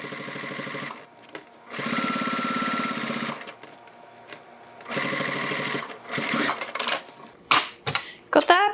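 A sewing machine stitches through crossbody bag layers in several short bursts of rapid mechanical chatter separated by pauses, with light handling clicks between runs.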